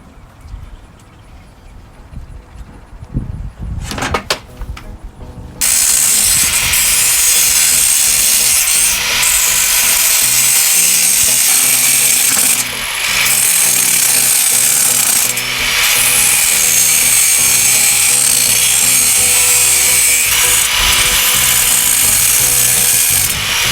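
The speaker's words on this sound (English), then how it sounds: "So let me go get the grinder and get a cutoff wheel put on it." An angle grinder with a cutoff wheel cuts notches in metal during a bus window delete build. Faint handling noises come first, then the loud, steady, close grinding whine runs continuously with brief dips in pitch and level.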